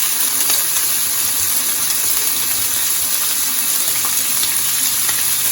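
Kielbasa sausages sizzle and crackle steadily in a greasy skillet, a dense, even frying hiss running close and loud throughout with no talking.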